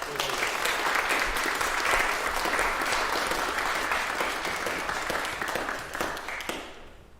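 Sustained applause from a congregation for a choir and musicians at an Easter Vigil service, a dense even wash of many hands that holds for about six seconds and then tapers off.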